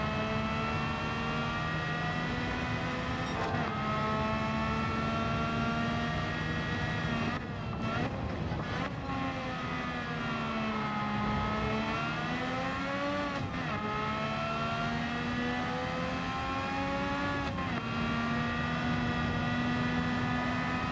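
A race car engine in a racing video game drones steadily through laps, its high whine rising and falling with gear shifts and brief lifts, loud and continuous with a faint voice underneath.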